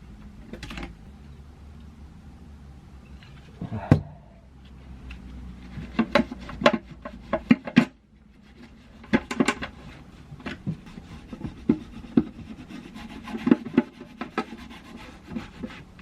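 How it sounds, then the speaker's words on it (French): Mastic being scraped off a carbon fiber part mold, with irregular scratchy rubs and sharp scrapes in uneven bursts, close up and fairly quiet, no talking. "Je vais finir d'enlever le mastic, remettre un petit coup de démoulant pour la prochaine pièce."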